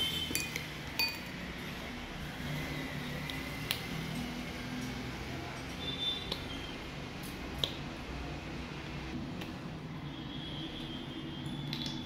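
Rubbing alcohol is measured with a glass and spoon, giving faint scattered clinks and light taps of metal on glass over a quiet, low room hum.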